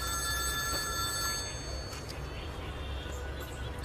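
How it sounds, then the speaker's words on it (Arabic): A telephone rings in an Egyptian film scene, its bell sounding steadily throughout over a dense background hum with no clear talk. "ترد يا باشا على التليفون بدل ما انت بتضحك."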